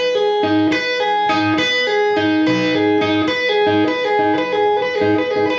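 Electric guitar playing a rock-blues lick with a pull-off, a bright, slightly overdriven tone repeating a short three-beat phrase several times, close and loud with no talking.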